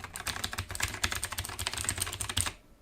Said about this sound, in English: let's take a look at what the keys actually sound like